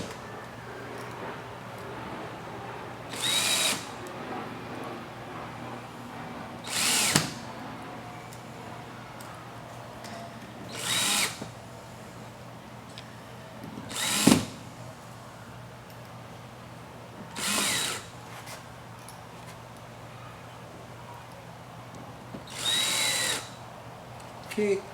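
A power drill drives screws to mount hurricane fabric, sounding in six short, loud whirring bursts spaced a few seconds apart. Quiet background noise fills the gaps between them.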